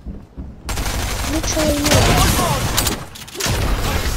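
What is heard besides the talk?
shotgun firing in the video game Fortnite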